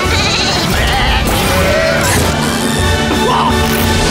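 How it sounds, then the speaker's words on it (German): Sheep bleating in the German trailer for the animated Shaun the Sheep film, loud, near bleats over a busy mix of music and effects, with a crash or bang among them. "Sean das Schaf, der Film"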